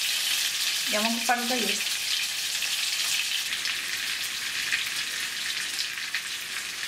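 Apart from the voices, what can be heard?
meat cutlets frying in a pan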